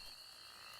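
Bullfrogs croak in a handmade swamp ambient track, a faint continuous chorus with steady high insect-like trilling, brief and quiet with no talking.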